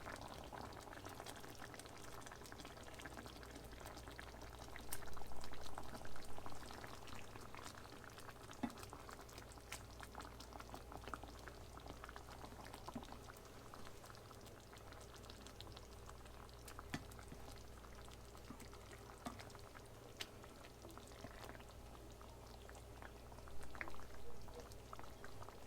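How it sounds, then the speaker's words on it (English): Salisbury steak patties simmer in mushroom gravy in a pan, giving a steady close bubbling hiss with soft pops and a few slightly louder surges, with no voices. "Let them simmer like that for a couple of minutes,"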